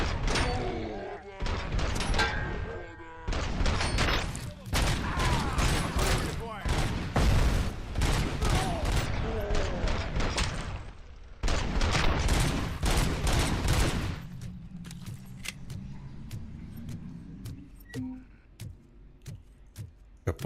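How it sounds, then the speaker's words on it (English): Automatic gunfire from the video game Robocop: Rogue City crackles in dense, loud rapid bursts for most of the stretch, with ricochets mixed in, then thins to scattered faint shots and quieter game ambience near the end. "Got bullets ricocheting off us."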